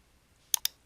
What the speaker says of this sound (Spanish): selecciónalo y da clic en Cerrar.